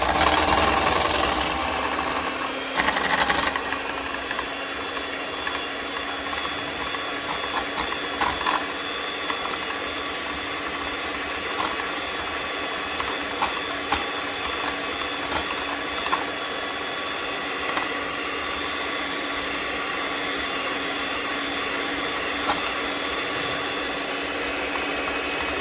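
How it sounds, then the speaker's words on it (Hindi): An electric hand mixer beats cream in a bowl with a continuous mechanical whir and a steady motor hum, close and even for nearly half a minute, with a louder start and occasional small clicks. "सबसे पहले मैं क्रीम को बीट करूँगी।"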